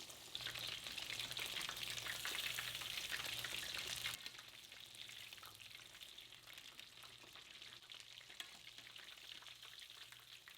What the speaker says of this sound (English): I'm gonna be frying it in some oil until it is nice and crispy brown.